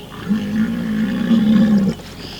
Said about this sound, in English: Hearing a rhino make any sort of vocalization is quite uncommon.